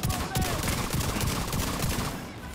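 Rapid automatic gunfire crackles continuously in The Division 2 shooter game, a dense loud fusillade lasting the whole moment and tapering slightly at the end.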